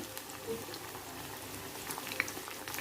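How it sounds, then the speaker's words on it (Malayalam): Ripe jackfruit fritters fry in a pan of oil over a medium flame, making a faint, even bubbling sizzle that carries on softly throughout. "മീഡിയം ഫ്ലെയിമിലിട്ട് ഫ്രൈ ചെയ്തെടുത്താൽ മതി."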